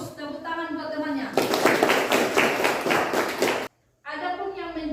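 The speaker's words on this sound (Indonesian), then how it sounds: "Tepuk tangan buat temannya." A class of students gives a short burst of clapping for a classmate, starting after someone speaks and cutting off abruptly before talk resumes; speech frames the applause on both sides.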